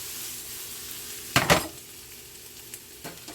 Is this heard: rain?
no